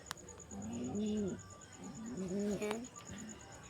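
Pigeon squabs in a loft giving low, wavering coos in two drawn-out phrases, close by, with someone speaking briefly over them.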